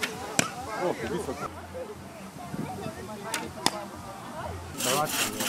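Arrows fired from a bow at a target about 5 metres away at a festive outdoor fair, a few sharp impacts scattered among voices.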